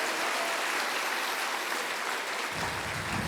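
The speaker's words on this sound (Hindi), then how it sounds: "पुनः सब एक दूसरे के उत्साहवर्धन में तालियों की गड़गड़ाहट करें" Audience applause at a religious satsang: a dense, even roar of many hands clapping, sustained and loud throughout, swelling slightly near the end.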